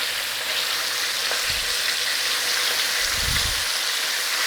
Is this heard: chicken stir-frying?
yes